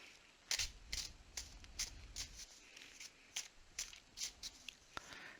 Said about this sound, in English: I'm going to shuffle a couple more times here.